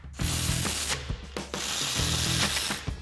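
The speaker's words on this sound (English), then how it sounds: "Now we'll grab our 16 millimeter socket and tighten these back down." A ratchet with a 16 mm socket clicks steadily and loudly up close as it tightens the mounting bolts on a 2019-2024 RAM 2500 brake assembly, with short pauses between strokes.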